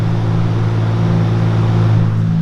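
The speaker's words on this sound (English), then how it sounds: "Sorry, there's some noise here. Josh is tuning the Supra." A Toyota Supra engine being tuned in a garage, a steady loud drone with strong low hum that holds constant throughout with no revving swings, close to the listener.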